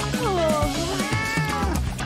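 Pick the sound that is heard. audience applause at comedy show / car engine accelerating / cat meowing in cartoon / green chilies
cat meowing in cartoon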